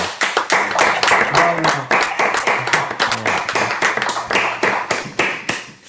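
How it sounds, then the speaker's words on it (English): Applause from a virtual open mic audience, a dense, loud patter of many hands clapping throughout, with occasional voices mixed in. "Let them applaud for you there"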